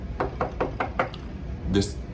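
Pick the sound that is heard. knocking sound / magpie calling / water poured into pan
knocking sound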